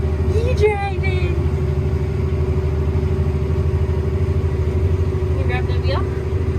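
A tractor engine drones steadily while driving on a farm, a loud continuous low rumble throughout, with brief voices and child sounds over it at the start and end.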